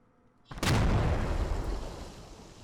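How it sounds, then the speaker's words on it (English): A loud IED blast from a cell phone detonator in Squad erupts suddenly after near silence, a heavy boom that rolls out and decays slowly over a couple of seconds. "you can see IEDs and hear them explode across the map"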